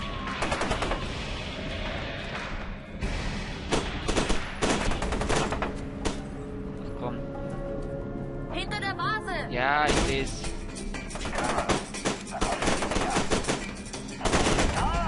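Rapid bursts of gunfire in the video game F.E.A.R. 2 crackle in quick volleys, with a voice speaking briefly in German between the shots.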